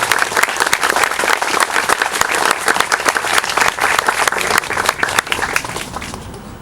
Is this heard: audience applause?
yes